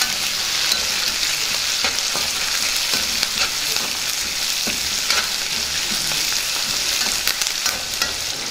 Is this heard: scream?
no